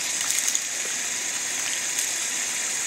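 Tap water runs through a ball valve into an irrigation reservoir, making a steady, even rushing hiss of flowing water that stays constant and close without pauses or talk.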